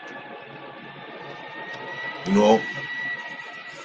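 Steady wind blowing outside next to a window, a continuous low rush with a brief gust swelling midway, heard under a man's speech.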